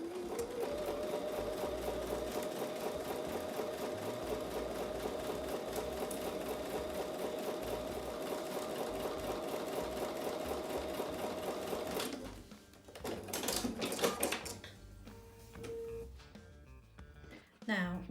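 A sewing machine stitches quilt block pieces with a 1/4 inch seam, running in a steady, continuous whir for about twelve seconds before stopping and giving way to quieter handling sounds.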